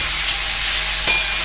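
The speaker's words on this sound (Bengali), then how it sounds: "এবার পেঁয়াজের সঙ্গে টমেটোটা একটু কষে নিতে হবে" Chopped onion and tomato sautéing in a pan, a loud, dense, continuous sizzle with one short scrape of a spatula near the end.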